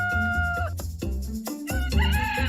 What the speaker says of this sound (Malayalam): എല്ലാ കോഴികളും വളരെ ഉച്ചത്തിൽ മത്സരിച്ചുകൊണ്ട് കൂവിക്കൊണ്ടേയിരുന്നു